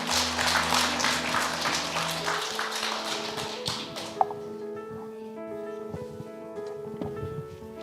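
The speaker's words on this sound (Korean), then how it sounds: "여러분들의 큰 박수로 우리 대표님 한번 모시도록 하겠습니다." An audience welcomes a speaker with applause at a broadcast centre opening ceremony and media economic forum; dense clapping for a couple of seconds, then fading away as music carries on.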